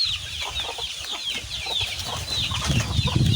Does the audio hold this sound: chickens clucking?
yes